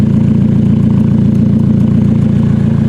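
Close and loud, a 2018 Toyota Corolla fitted with a TRD racing exhaust idles in a steady low burble with an even pulsing rhythm and no revs.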